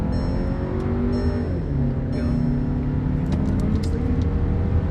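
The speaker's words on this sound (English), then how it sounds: "let's actually see how fast the Tiguan is from a 0 to 60 standpoint right now" A Mk2 Volkswagen Tiguan SUV engine revs and climbs steadily accelerating from 0 to 60 mph, the drone rising in pitch with a gear change partway through, heard from inside the cabin.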